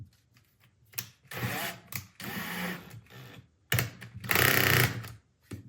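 Cordless drill with its clutch turned down driving screws during a Porter Cable bearing repair, heard as several short whirring bursts with pauses between, close and fairly loud, the last burst longest.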